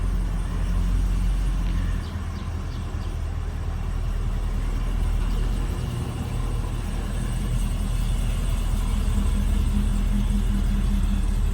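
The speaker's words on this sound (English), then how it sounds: "Have you ever seen a purple Cadillac towing a little mini white trailer?" A purple Cadillac pulling a small white mini trailer, heard as a steady low engine and road rumble that holds close and even throughout, with no talking.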